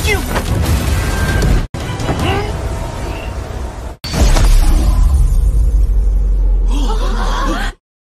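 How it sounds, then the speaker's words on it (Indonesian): Heavy booming blasts in an animated fantasy battle scene, with rumbling and crackling debris, loud and dense, broken by two abrupt cuts before a final sustained roar. "Dan ledakan yang sangat mengerikan pun terjadi"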